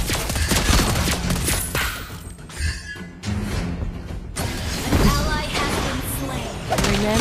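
Video game gunfire in a mythic-rank match, dense bursts of rapid shots with thuds and mechanical clatter, loud and close, mixed with game music and a brief quiet gap.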